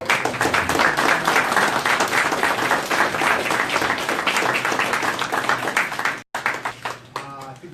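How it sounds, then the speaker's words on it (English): An audience at a ward special election candidate forum gives a dense, steady round of applause that breaks off abruptly, followed by a brief stretch of speech and a few scattered claps. "I think we should give them all a little round of applause."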